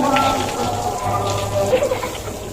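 Heavy rain falling on a rooftop in Bangladesh, a dense, close, steady patter of drops filling the whole short stretch, with faint tonal sounds in the background.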